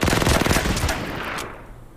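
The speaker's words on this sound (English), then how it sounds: "Take a free shot from the fortress." Fortress artillery in the Order of Battle strategy game fires a loud, dense burst of blasts that rolls into a rumbling decay and then fades over about two seconds.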